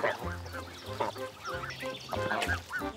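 A flock of Touraine geese honking repeatedly, loud and close, with overlapping nasal calls in an irregular rhythm.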